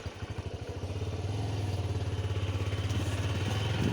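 A motorcycle engine runs close by, its steady low pulsing throb building slightly and then holding even, with light mechanical clatter and no talking.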